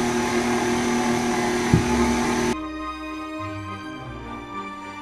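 An electric mixer whirs loudly and steadily while beating icing sugar into frosting for a red velvet cake, then abruptly drops to a quieter, lower hum partway through, with no voices.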